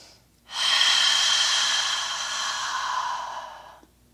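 A long, deep audible exhale during a yoga back stretch, one steady breathy rush lasting about three seconds, close and clear with no talk over it.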